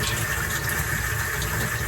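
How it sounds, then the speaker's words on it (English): Water pours steadily into a pan set up as a steam bath for baking a sweet potato cheesecake, a continuous close rushing fill with no break and no voices. "So I filled it up with water so it can have a hot steam bath"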